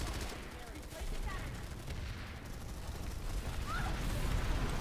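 Rapid bursts of Planetside 2 gunfire crackle over a dense, noisy mix, with muffled voices underneath throughout.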